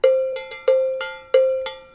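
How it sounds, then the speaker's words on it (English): Latin-style cowbell struck alone in a syncopated pattern of about seven sharp metallic hits, each bright clang with a short ringing tail, close and loud with no talk. "a cowbell."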